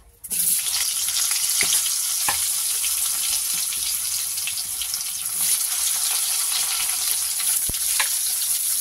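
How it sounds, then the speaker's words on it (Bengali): Potatoes fry lightly in hot oil in a pan: after a brief quiet start, a loud, steady close sizzle runs throughout, with a few faint clicks and no voices. "আলুগুলোকেও হালকা করে ভেজে নেব।"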